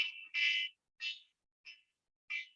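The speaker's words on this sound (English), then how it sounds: "My timer's very loud." A loud timer alarm beeps in short, shrill bursts, five evenly spaced electronic tones with silence between them, heard alone and close.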